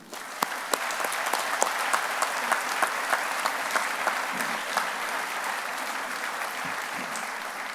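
An audience at a Harvard medical and dental school White Coat Ceremony applauds steadily as Dean George Daly is welcomed, a full even clapping from a large crowd that carries on throughout without talk.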